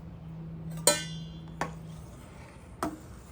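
A tablespoon stirring milk powder into water for homemade curd clinks sharply against the vessel three times, irregularly spaced over a faint, steady background hum.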